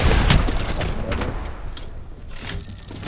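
Grenades going off in Apex Legends, a dense burst of loud booming blasts and gunfire-like cracks up close that gradually thins out, with chaotic game noise throughout.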